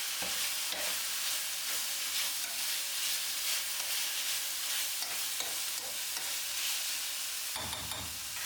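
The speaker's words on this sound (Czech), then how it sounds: "Vše to důkladně promíchám a maso nechám ještě restovat." Meat frying and being stirred in a pan while making a Czech-style risotto, with a steady close sizzle and repeated scraping stirs throughout, and a louder clatter near the end.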